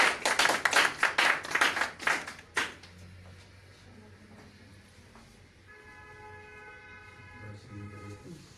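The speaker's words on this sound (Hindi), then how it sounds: "एक बार जोरदार तालियों के साथ प्लीज" A live demonstration audience claps in a burst of loud, dense applause for about three seconds before it cuts off, followed by quieter room sound and a faint tonal hum.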